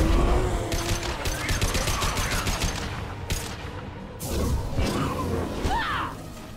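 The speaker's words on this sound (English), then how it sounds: "Let's detonate." Explosions and rapid weapon fire from a detonation in the video game Mass Effect 2, a dense burst of loud crackling blasts and whooshes rolling over several seconds with a short gap before a second surge.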